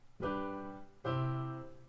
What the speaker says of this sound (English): that's the perfect authentic cadence